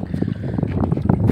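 Small wooden fishing boat on the Brahmaputra river, with water sloshing against the hull and wind buffeting the microphone in a steady close wash.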